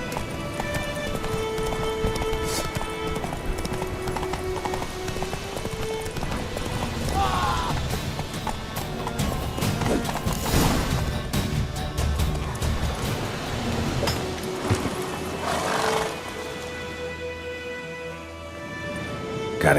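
Horse galloping in The Witcher 3, a quick rhythmic clip-clop of hooves running steadily throughout, with a brief whinny, game music and ambient sounds alongside and a voice speaking over it at moments.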